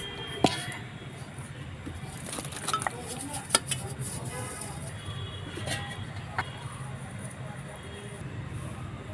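A metal plate greased with mustard oil before making sago papad, with scattered metallic clinks and scrapes of the plate and utensils, close and fairly quiet.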